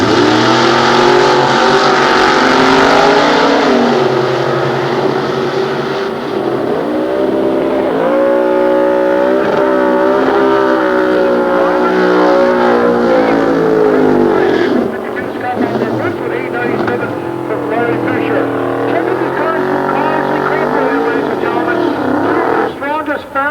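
Multi-carbureted, normally aspirated big block Chevrolet Camaro street cars at a 1993 nostalgia drag race, engines roaring loud and continuous with rising revs and shifts, under a commentator's talk.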